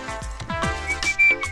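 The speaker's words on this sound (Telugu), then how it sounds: "అలా విజిల్ కూడా వేయకూడదు తల్లి" A person gives a short, sharp whistle in an exam hall, rising near the end after a few rhythmic taps. The whistle is close and loud, with no speech.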